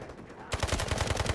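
Automatic gunfire in the mobile shooter Delta Force Mobile: a rapid, steady burst of shots that starts partway through and continues to the end, loud and close, after a stretch of quieter game ambience.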